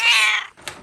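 A loud, close cat meow sounds indoors in a home, a bright drawn-out cry lasting under half a second, followed by a brief faint click.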